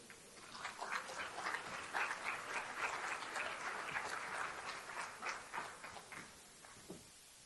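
An audience at a conference on infrastructure investment and climate change applauds to welcome a speaker, many hands clapping in a steady rolling burst that thins out and fades toward the end, heard from some distance.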